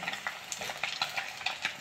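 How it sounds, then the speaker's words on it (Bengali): Tar fish sizzles in a pan, a brief close spell of crackling and popping oil with quick irregular spits and no talking. "এই হচ্ছে তার মাছ ভাজা হচ্ছে, দেখো কিরকম।"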